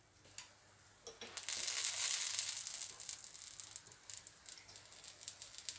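Banana oat pancakes in a pan give a faint, crackly sizzle that swells after a quiet start and then fades to scattered pops and ticks.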